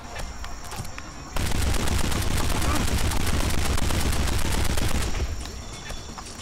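Dense, sustained gunfire from a shooter firing fight in Kane and Lynch: Dead Men, rapid overlapping shots forming a loud continuous barrage that starts abruptly and tapers off near the end.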